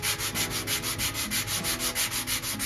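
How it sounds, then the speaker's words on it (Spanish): Steady rhythmic rubbing of a medium-grit sanding block on wood, quick even back-and-forth strokes, close and continuous. "Primero la voy a lijar con este taco de lija de grano un poquito gordo."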